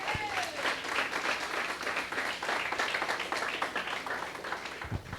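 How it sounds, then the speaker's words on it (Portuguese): A standing church congregation at a Sunday worship service claps loudly and continuously, a dense, roomy ovation filling the hall for several seconds. "Fica de pé e aplaude ao Senhor bem forte."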